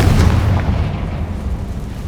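Spell explosions in the video game Hogwarts Legacy during a boss fight: one loud, deep boom with a rumbling, crackling tail that fades slowly over about two seconds.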